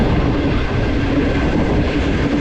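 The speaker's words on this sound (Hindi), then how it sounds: "और हमारी ट्रेन गुजर रही है सतबारान ब्रिज के ऊपर से।" The Karakoram Express rumbles loudly and steadily across the Satbaran bridge, a dense continuous roar of wheels and carriages up close with no talk.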